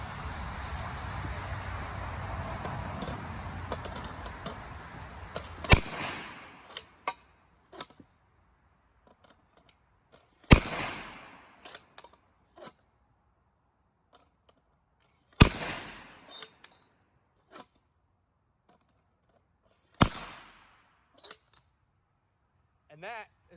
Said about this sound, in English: I wanted to show how our mortar works.